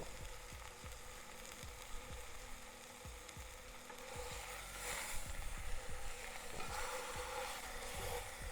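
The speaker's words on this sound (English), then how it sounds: "I'm just getting a sear to keep all this good all this good juice in it" Pork tenderloin sears in a Dutch oven with a steady, faint sizzle and hiss throughout, under a run of soft repeated clicks or scrapes, without any voices.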